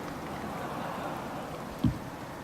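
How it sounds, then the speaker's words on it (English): Steady, soft rain hisses at an outdoor memorial ceremony, a faint continuous wash with one brief dull thump near the end and no talking. "who minds a little rain?"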